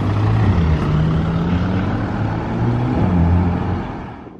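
A Bentley drives past on a street in Monaco, its engine a loud, steady low rumble that fades away at the end.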